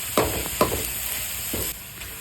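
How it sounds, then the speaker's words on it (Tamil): Chicken biryani being stirred and fried in a pot: a few scraping stirs, each with a brief sizzle, against a steady frying hiss, close and alone. "நல்லா கிண்டிக்கணும், நல்லா மிக்சிங் கரெக்டாக இருக்கணும்"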